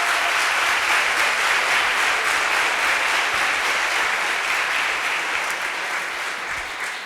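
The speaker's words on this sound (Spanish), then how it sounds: "un aplauso para Juan por eso" A room full of people at an academic talk on globalization claps steadily, a dense, even applause close by that holds strong and slowly begins to fade near the end.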